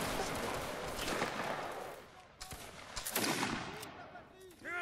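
A ragged volley of musket fire on command in a multiplayer battle game, crackling shots bursting in overlapping waves with a brief lull between, close and loud, with faint voices mixed in.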